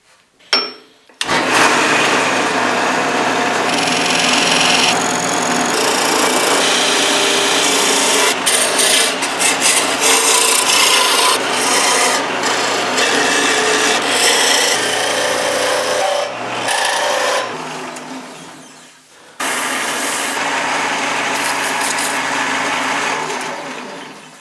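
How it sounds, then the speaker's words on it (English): Lathe turning and working a dagger piece in a shop, a loud continuous raspy abrasive rubbing with a steady motor drone, briefly cutting out then resuming near the end. "Let's do some lathe work."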